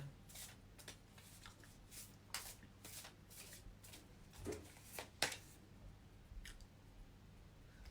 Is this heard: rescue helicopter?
no